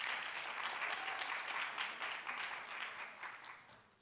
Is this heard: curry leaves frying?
no